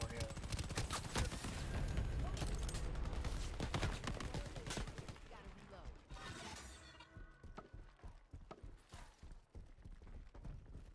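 Gunfire and explosions from the online shooter game Shatterline, a dense, loud barrage of rapid shots and blasts that thins out toward the end, with a voice speaking over the action.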